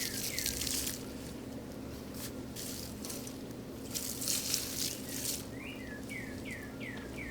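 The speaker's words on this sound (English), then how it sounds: "So I'm going to pour this on the potato cage and the beds" Rice water poured from a container onto garden plants and seed beds outdoors, bursts of splashing and trickling water, with birds chirping repeatedly in the background.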